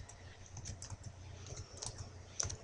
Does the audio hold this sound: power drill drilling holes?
no